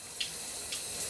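Running shower water, a steady hissing spray that flows continuously at moderate level, with faint brief splashes on top and no talk.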